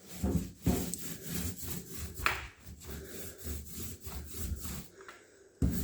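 A paint roller carrying very little paint rolls over a kitchen cabinet, producing a steady close rasping rub in repeated strokes, with a few sharper knocks between passes.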